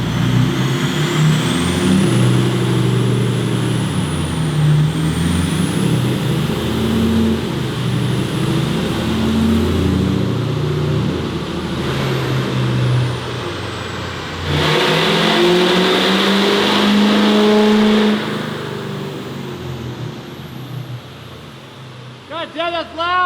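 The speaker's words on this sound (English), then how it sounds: "You hear the turbo." Turbocharged car engine revving in a couple of long, loud sustained pulls with a rising whine, people talking over it, ending in a few sharp blips.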